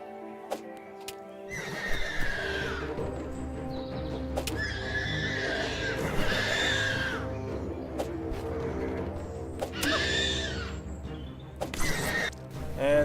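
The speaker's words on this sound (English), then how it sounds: "They all kind of sound like horses." Monsters in the video game Starbound give out repeated horse-like neighs and whinnies, several loud bursts spaced a few seconds apart over a steady background hum with clicking footstep sounds.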